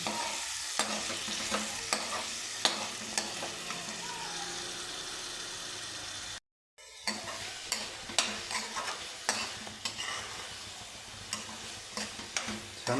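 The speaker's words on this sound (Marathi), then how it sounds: "आता हा ओला मसाला देखील तेल सुटेपर्यंत आपण भाजून घ्यायचा आहे" Wet masala for aloo curry fries in oil in a pan, a steady sizzle broken by repeated scraping stirs and spoon taps, with a brief silent gap partway through.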